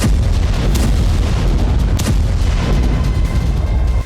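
Heavy, continuous rumbling of an Israeli army bombardment in Gaza, loud and dense throughout, with a few sharper bursts standing out from the low roar.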